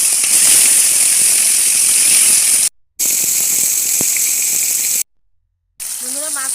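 Hilsa fish frying in hot oil in a heated wok gives a loud, steady, hissing sizzle that cuts out briefly twice, with a faint tonal chirp near the end.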